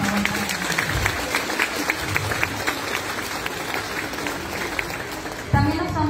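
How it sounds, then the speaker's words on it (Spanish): Listeners at a morning-shift school expo of an adult education centre in Mexico clap together in a sustained, moderately loud round, while a voice talks over the applause and rises near the end. "Aplausos, por favor."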